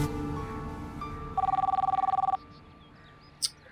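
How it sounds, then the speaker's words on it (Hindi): An old-style telephone bell rings in one fast, trilling burst lasting about a second, loud and close over a quiet background, followed by a short sharp click. "किसका फोन आ गया?"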